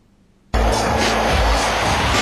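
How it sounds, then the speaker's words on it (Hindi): A jet plane flying overhead bursts in after a near-silent moment as a loud, sustained roar that fills the clip with no talk. "आसमान में जेट प्लेन,"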